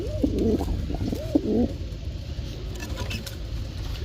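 A pigeon chick held in someone's hand gives two short rising calls close by, one after the other, and then goes quiet against a low background hum.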